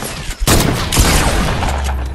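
Gunfire in the Fortnite video game, a sharp shot landing as a headshot, followed by a dense, loud burst of game sounds and more shots that continue to the end.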